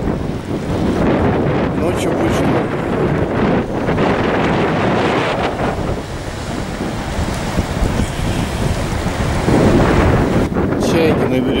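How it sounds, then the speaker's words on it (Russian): Rough sea waves crash and wash onto a beach at Lyubimovka, buffeted by heavy wind gusts against the microphone, loud and continuous; someone speaks briefly over the surf. "Волнение усиливается."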